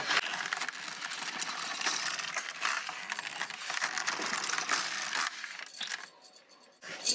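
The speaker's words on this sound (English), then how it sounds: "And then I will knit 2 rows and start my diamond shape in the center." An LK150 knitting machine carriage is pushed across the needle bed for two rows, giving a steady close mechanical clatter and ratcheting rasp that cuts out briefly near the end before resuming.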